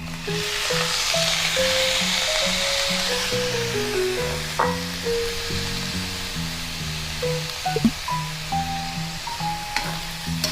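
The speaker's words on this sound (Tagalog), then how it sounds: "lagay na rin natin yung carrots tsaka yung Baguio beans" Carrots and Baguio beans sizzle in a hot pan after garlic and onion, a steady bright frying hiss with stirring clatter, while music plays over it.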